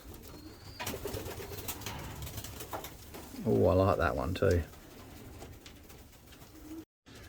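A racing pigeon coos in a brief, loud burst at close range while being held in the hand, with a person talking nearby before and after.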